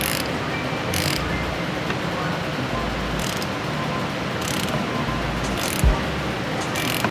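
A ratchet tightening the main bolt of a carbon fiber steering wheel on a Toyota Supra, a steady mechanical clicking at close range that runs throughout.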